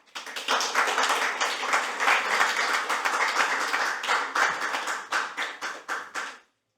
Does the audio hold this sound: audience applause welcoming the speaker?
yes